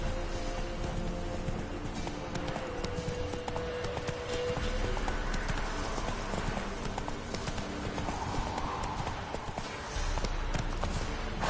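Hooves of the horse Roach clip-clop in a steady rapid gallop in a video game, loud and continuous over ambient game sound with a brief spoken line.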